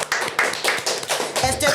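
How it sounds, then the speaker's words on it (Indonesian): A few people in a podcast studio clap briefly, giving a short burst of close, irregular claps with a voice mixed underneath. "Tepuk tangan lu dong."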